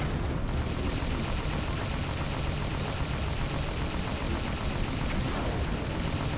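Dense, continuous gunfire from the Halo 4 video game, rapid shots poured at a tough target in a loud, unbroken barrage lasting several seconds.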